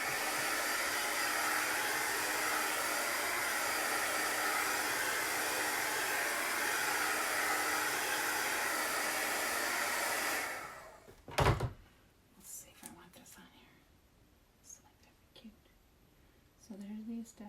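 A hair dryer blows steadily and loudly over chalk paste for about ten seconds, then cuts off, leaving faint handling clatter and a few soft knocks.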